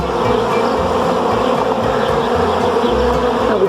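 Swarm of honey bees buzzing loudly and continuously at close range, a dense steady hum with no voices.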